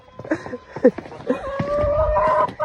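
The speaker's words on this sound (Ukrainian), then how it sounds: "Так, що кокаєте?" Hens in a village yard cluck and squawk close by in short bursts, then break into a steady, drawn-out cackling chorus.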